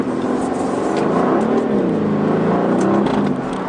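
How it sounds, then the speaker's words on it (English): A 2020 Aston Martin Vantage engine revs hard under acceleration, its exhaust note rising and falling in a loud, continuous roar from inside the car. "Oh yeah, did you hear that exhaust?"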